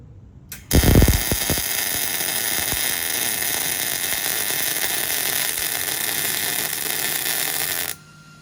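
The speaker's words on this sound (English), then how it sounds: "And I'm gonna show you a weld right now." A MIG welder lays down a weld bead: after a brief opening thump, a steady, close, hissing crackle runs unbroken for about seven seconds and then cuts off sharply.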